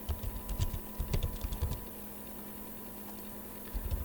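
Typing on a computer keyboard in a quiet room, with bursts of quick, uneven key clicks that pause briefly and resume near the end over a steady electrical hum.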